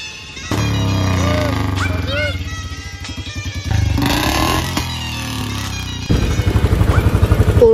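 A Royal Enfield Bullet BS6 motorcycle fitted with a long Punjab-style C-bend exhaust pipe thumps close by with a loud, pulsing single-cylinder beat, rising and falling in revs across several bursts, with a voice talking over it.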